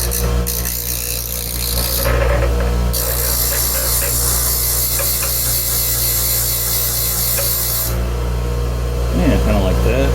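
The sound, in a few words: grinding a little off metal parts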